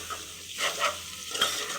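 Fresh coriander and mint being stirred into a sizzling pan for potato pulao, giving soft scraping strokes over a steady frying hiss, close by, with no voices.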